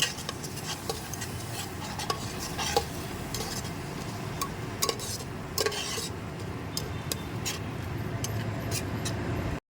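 Spice paste for prawn pulao fries and is stirred in a pan, with a continuous sizzle under repeated scraping and clinking of a spoon against metal, close and steady throughout.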